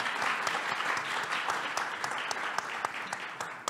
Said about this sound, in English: Yes, claps, claps, claps.